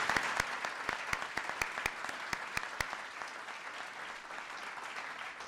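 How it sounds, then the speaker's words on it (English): Applause from an audience at a First Lady's Social Innovation Fund grants announcement, honoring a woman named Melody: a room of clapping with a few sharp, close claps standing out, tapering slightly toward the end. "So let's please give a round of applause to Melody."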